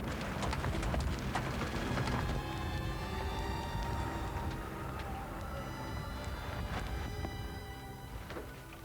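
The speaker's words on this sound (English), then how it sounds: "As the hail batters the vehicle" One-inch hail battering a vehicle during a severe storm: dense, irregular clattering impacts on the body, with scattered sharper cracks over a constant roaring wash, loud and close, lasting the whole time.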